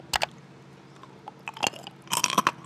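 Crispy fried traditional snack being bitten and chewed close up, with a sharp crunch at the start, then quieter chewing that builds into a burst of loud crunching.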